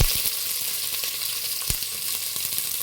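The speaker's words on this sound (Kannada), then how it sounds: "ಎಣ್ಣೆಗೆ ಚೆನ್ನಾಗಿ ಫ್ರೈ ಮಾಡ್ಕೊತಿದ್ದೀನ" Onions and curry leaves fry in hot oil in a cooker, a steady close sizzle with occasional sharper crackles and pops, with no talk over it.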